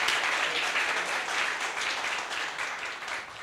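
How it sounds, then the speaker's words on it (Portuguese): An audience at a business talk applauds in a steady, dense wash of clapping that holds at an even level throughout and tapers slightly at the end. "Agora sim, uma salva de palmas"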